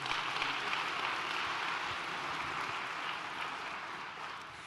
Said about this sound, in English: And you may clap for that extraordinary gift.